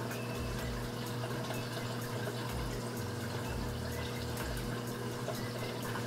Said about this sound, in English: So we need to get 1 milliliter of our tank water here.